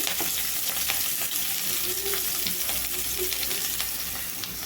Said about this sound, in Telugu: ఆయిల్ అయితే హీట్ అయింది సన్నగా తరిగి పెట్టుకున్న ఎల్లిపాయ ముక్కలు పచ్చిమిరపకాయ ముక్కలు అండి ఉల్లిపాయ ముక్కలు